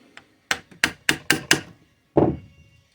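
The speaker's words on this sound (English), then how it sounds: "So the solution to this is to tap on the housing, which is up here, right here on this housing." Back of a screwdriver tapping the housing of a Series 6300 RV converter (model 6345) to free its fan motor: five sharp, close metallic knocks in quick succession, then a heavier single thump with a short ringing tail.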